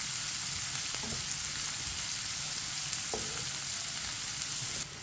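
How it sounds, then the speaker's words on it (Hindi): Sliced onions frying in a pan over a medium flame while cooking anda karela, a steady close sizzle holding at an even level throughout with no talk. "प्याज को भी मैंने साथ 2 मिनट के लिए फ्राई कर लिया"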